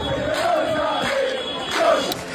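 Palermo football fans chanting in unison at a boy's funeral, a sustained crowd chant with rising and falling voices, moderately near.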